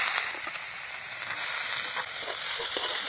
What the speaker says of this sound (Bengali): এবার এই জল ঝরানো বথুয়া শাকটা এবার এখানে ভেজে নেব।